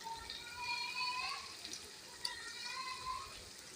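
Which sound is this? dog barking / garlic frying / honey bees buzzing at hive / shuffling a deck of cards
garlic frying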